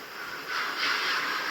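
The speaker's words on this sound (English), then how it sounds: "There's a little wheel slip there." A model train locomotive's wheels slipping on the track, a steady hissing, grinding rush that swells slightly midway, heard close without talk.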